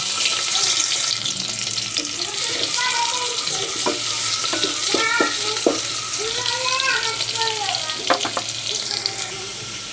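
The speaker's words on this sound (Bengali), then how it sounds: "তেল দিয়ে দিলাম, প্রথমে পেঁয়াজ কুচিগুলো দিয়ে দেব।" Chopped onions frying in hot oil in a pan for a vegetable curry, a steady loud sizzle running throughout with occasional clinks and scrapes of a stirring spoon.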